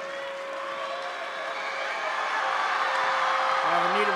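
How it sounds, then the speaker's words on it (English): A high school boys basketball crowd cheers and applauds in a gym, a broad, steady roar that swells slightly toward the end, with a commentator talking over it. "crowd comes alive"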